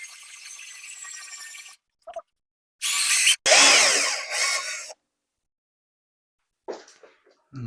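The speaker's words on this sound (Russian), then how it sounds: "Ну, заодно и посмотрим, насколько сильно у меня при таком сверлении ведет сверло." A power drill bores deep into a workpiece, a loud close whine in several bursts of a second or two separated by silent pauses, with a short faint burst near the end.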